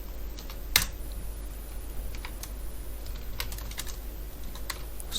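Typing on a computer keyboard while writing Android app code, a close, quiet stream of irregular key clicks with one sharper tap early on, no speech.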